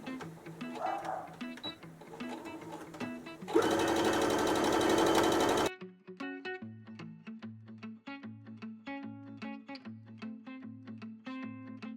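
A sewing machine stitches a half-inch seam along quilted rag bag straps in rapid, even bursts of needle clatter, with a brief louder whir in the middle, close and alone.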